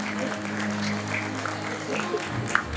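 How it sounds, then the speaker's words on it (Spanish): A school graduation audience applauds its teachers, with dense, steady clapping over a low background hum and a brief sharper clap spike near the end. "nuevamente le brindamos un caluroso aplauso a nuestras queridas docentes"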